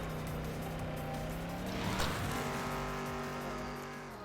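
Arcade kart racing in the video game S&box, with engines droning steadily as karts drift and hit boost pads around a track; a louder surge swells near the middle as a kart passes close, then settles back under continuous motor whine.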